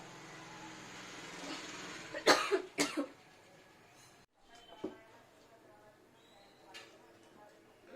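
A couple of sharp, close coughs in quick succession, followed by quieter shuffling noises.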